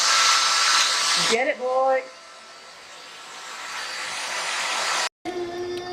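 A household vacuum cleaner run by a child drones loudly and steadily, briefly interrupted and then resuming, while someone speaks over it.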